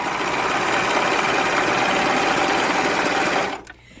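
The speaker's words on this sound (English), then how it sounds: "I'm just going to make a stitch along the edge so that we won't fray" A sewing machine stitching along a fabric edge to stop fraying, a steady close mechanical whir that runs continuously for several seconds and then stops abruptly, with no talk.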